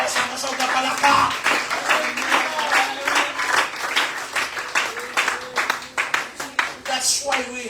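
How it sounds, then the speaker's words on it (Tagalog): Congregation in a church applauding, a steady wash of clapping hands with scattered voices mixed in, fairly close and loud throughout. "Atong palakpakan ang Ginoo sa kusog na palakpak."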